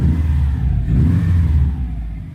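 A built Subaru GC8 RSTI engine idles as it warms up, giving a steady, close, deep rumble with slight wavering and no voices over it.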